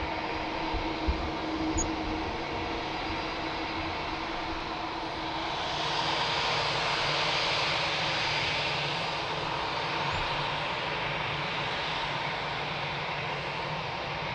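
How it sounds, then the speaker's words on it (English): An Airbus A330 airliner lands at Lisbon Airport, its engine roar steady and broad throughout, swelling slightly midway with no voices present. "Nice 330 landing"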